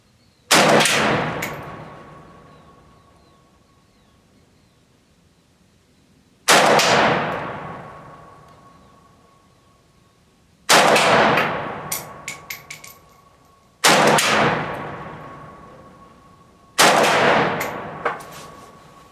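Five loud rifle shots from a Riley Defense RAK 47 being sighted in at a taped target, each a sharp crack with a ringing decay, spaced roughly three to four seconds apart, with no talk.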